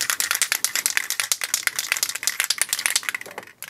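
A dry-lubricant aerosol can with a mixing ball inside is shaken hard, giving a rapid, loud, even rattle of many quick clacks for a few seconds.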